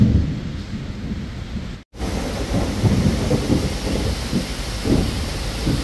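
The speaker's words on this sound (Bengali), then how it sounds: "প্রচণ্ড বৃষ্টি শুরু হয়ে গেছে" Heavy rain pours in a steady roar with deep rumbles of thunder rolling underneath, briefly cutting out near the start before resuming loudly.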